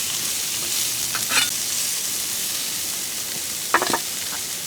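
Onions and peppers for fajitas sizzle on a hot outdoor griddle in a steady, close frying hiss, with two short bursts of scraping as a spatula tosses them.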